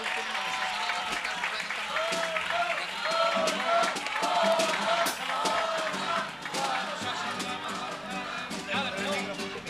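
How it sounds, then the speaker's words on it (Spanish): Audience applause mixed with crowd noise and scattered voices at a carnival proclamation and crowning of the millers' queens in Arcos de la Frontera, steady clapping running throughout under chatter and shouts. "Un aplauso, aplauso."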